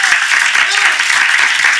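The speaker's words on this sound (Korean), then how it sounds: "그렇게 믿는 우리 하나님께 박수로 영광." Loud, dense clapping from a church congregation during a Sunday morning Korean worship service, a short unbroken burst with a voice faintly heard beneath it.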